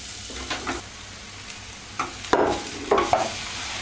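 Spices fry in a pan for an aubergine and chickpea curry, a low steady sizzle with several short bursts of stirring and scraping, close and without talk.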